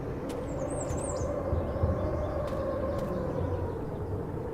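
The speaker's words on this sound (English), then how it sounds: "I could do without the sirens" Sirens wail in the video game Cataclysm Dark Days Ahead, a faint wavering tone riding high over a steady, dense wash of background noise.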